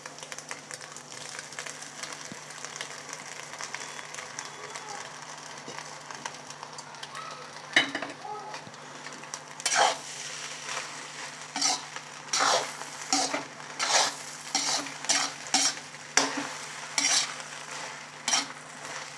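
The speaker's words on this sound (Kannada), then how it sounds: "ಈಗ ಇದಕ್ಕೆ ರೈಸ್ ಹಾಕೋತಾ ಇದ್ದೀನಿ." Cooked rice for egg rice fries with a steady sizzle in a pan, then a spoon scrapes and stirs it in a rhythmic series of close, loud strokes, with no one speaking.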